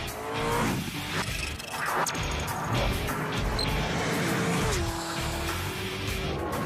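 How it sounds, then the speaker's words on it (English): A Chevrolet Corvette ZR1 launching hard from a standstill, tires squealing and engine roaring loudly, with a sustained rising and shifting engine tone over steady wheel screech. "The ZR-1 Super Corvette is fast. Launching from a standstill"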